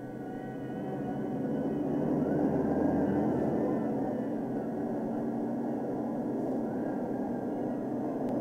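Air Force military aircraft taking off, a steady broad engine roar that swells slightly and holds, heard from a distance with no voices.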